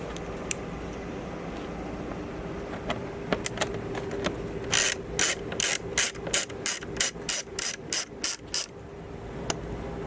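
A ratchet fitted with a T25 bit clicks as it turns the air filter screws on a 2017 Volkswagen Tiguan: a few isolated clicks, then a close, rapid rhythmic run of sharp ratcheting strokes.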